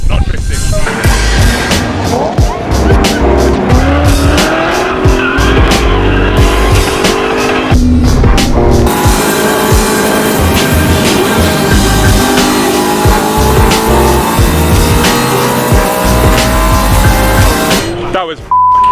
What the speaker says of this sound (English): I'm just warming up the E30 now to have a go in this on track